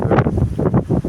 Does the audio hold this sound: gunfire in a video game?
no